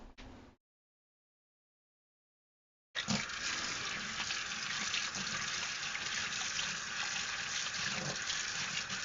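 A blue mop is rinsed in water, with a short burst of running water, a silent gap, then a steady, close rush of water filling and splashing.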